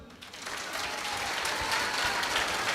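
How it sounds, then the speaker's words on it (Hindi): Studio audience applause at a Hindi devotional talk show with Aniruddhacharya, steady dense clapping that holds loud and even for the whole stretch, with no voices over it. "ठोको ताली।"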